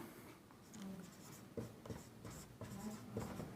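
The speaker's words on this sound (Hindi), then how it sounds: "अब हम लिखेंगे शिक्षा मनोविज्ञान" Pen strokes scratch across paper while handwriting in a classroom lesson, soft and close, in short irregular bursts with small taps between them.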